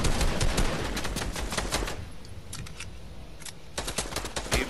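Rapid bursts of video game gunfire in a close-quarters match, dense automatic fire rattling loudly, pausing briefly, then resuming in sharp repeated shots, with no talking.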